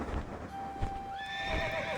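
Horses in the Reverse 1999 video game let out a high, wavering whinny with rising tones, mixed with soft hoof thuds beneath it, heard alone and fairly close.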